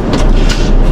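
A truck engine rumbles loud and close while reversing in a truck-driving video game. The drone is deep and steady, lasting about a second.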